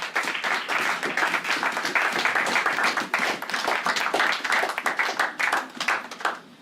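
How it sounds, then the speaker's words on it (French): A church congregation claps and applauds loudly together, a dense continuous roar of many hands with brisk rhythmic patter running the whole stretch, close and full. "Acclamons très très très fort."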